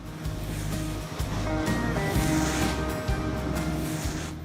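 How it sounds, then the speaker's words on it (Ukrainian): A large leaf vacuum sucks up leaves on a German street, giving a continuous loud roaring whoosh with a steady turbine drone underneath, close and unbroken throughout. "Ось такий величезний пилосос і просто всмоктує його всередину."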